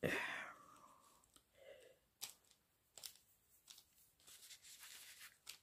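A person gives a breathy, drawn-out yawn at the start, followed by quiet clicks, rustles and handling sounds of crafting packages nearby.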